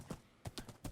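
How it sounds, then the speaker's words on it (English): Horse hooves clip-clopping in Minecraft, four quick soft hoof knocks in an uneven trotting rhythm, faint and alone. "We found like 6 or 8 or so horses over there"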